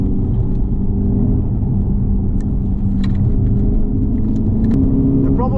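Remapped VW TDI diesel car accelerating hard from 0 to 60 mph, heard from inside as a continuous engine drone and road rumble that climbs in pitch, with brief faint chatter near the end.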